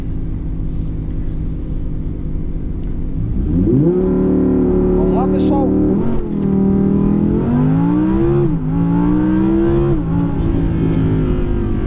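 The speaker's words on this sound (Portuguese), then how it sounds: "vamos ver como é que o carro faz aqui o 0 a 100 do negócio" Audi R8 on a race track doing a 0 to 100 launch-control run: a loud, steady engine roar climbs in pitch through several gear shifts, with brief dips between them, while a voice speaks briefly at the start.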